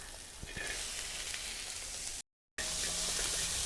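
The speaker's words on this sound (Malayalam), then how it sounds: "ആദ്യം ക്യാരറ്റ് ഒന്നിട്ട് ഫ്രൈ ചെയ്തതിന് ശേഷം ബീൻസ് ഇടാം" Carrot and beans fry in an uruli pan for chicken fried rice, making a steady, dense, close sizzle that cuts out briefly before resuming at full strength, with no talking.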